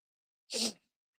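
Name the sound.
sneeze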